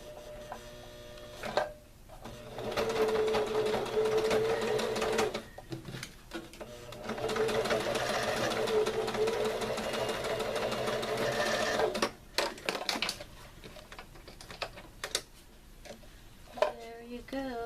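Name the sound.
sewing machine stitching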